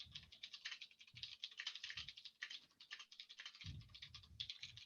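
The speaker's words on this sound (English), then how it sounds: "Sorry I'll be typing while I'm just sitting here." Rapid, irregular clatter of typing on a computer keyboard, fairly close and steady throughout, with a few louder low thumps mixed in and no talking.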